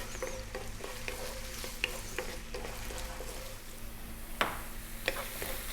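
Small pieces of food fry in a pan over medium heat, a steady close sizzle broken by the scrape and clatter of them being tossed and stirred around.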